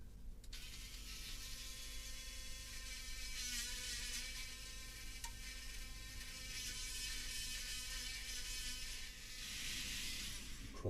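A small hobby drill whirs steadily as it bores through a plastic part of an Airfix 1:72 Typhoon scale model kit, a faint, continuous high buzz with no talk.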